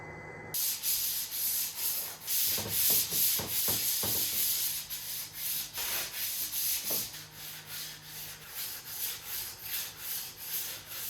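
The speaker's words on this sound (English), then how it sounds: "Just gonna grind it now." A grinder works across the roof surface of a 25ft Bertram boat, rasping and sanding close up in uneven strokes with a few sharp scraping bursts, and no talk.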